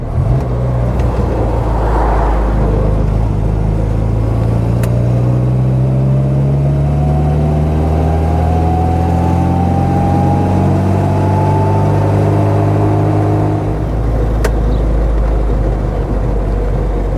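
A 1960 Austin-Healey Bugeye Sprite's stock engine while driving, a loud steady drone whose pitch climbs slowly as the car accelerates, with steady road and wind noise and no talk.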